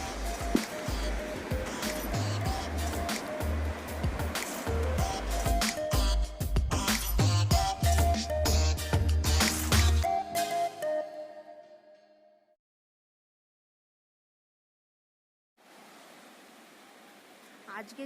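Sea waves wash up on Mandarmani beach, a steady broad surf roar with bursts of wind buffeting the mic, cutting to near silence and then returning faintly near the end while a person talks over it.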